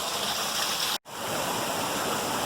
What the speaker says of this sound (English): Here we are at the top of the 3rd waterfall.